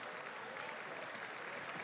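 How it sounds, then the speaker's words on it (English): Audience clapping in a legislative chamber during a speech by King Charles: steady, dense applause from many hands, loud and continuous without a break. "Why are they clapping?"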